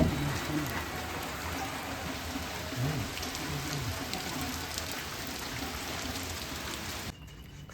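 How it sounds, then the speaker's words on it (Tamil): Heavy rain pours steadily outside a roadside tea shop on a day trip in the Megamalai hills near Theni. It is a dense, continuous wash of drops that stays loud throughout and drops off sharply near the end. "வெளியே மழை செம்மையாக பெய்யுது."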